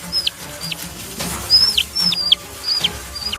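Several short, high chicken calls in quick bursts, fairly close, rising over a low background rumble, with no talk.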